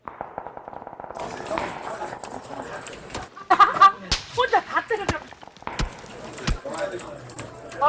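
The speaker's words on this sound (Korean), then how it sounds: "계속 쏘는데. 손님 뒤에 조심. 총 쏜다 뒤쪽에서." Gunshots in PUBG Battlegrounds, a scattering of sharp cracks and snaps at varying distances mixed with clattering game noise, with people talking over them.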